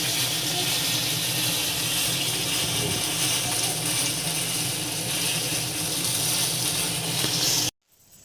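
Fish fries in a hot pan in a home kitchen, giving a steady, dense sizzle and crackle that stays loud and even for several seconds before stopping abruptly.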